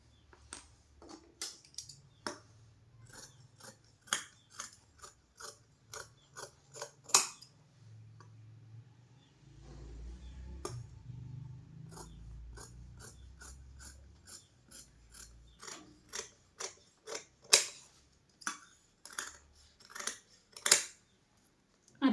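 Scissors cut saree fabric for a blouse sleeve with a run of crisp, repeated snips: quick closely spaced clicks at first, a softer rustling stretch in the middle, then more sharp snips near the end.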